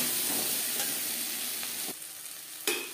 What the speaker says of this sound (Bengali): ভালো করে ভাজা হয়ে গেছে, দিয়ে দেব একটা কাঁচা লঙ্কা কুচি।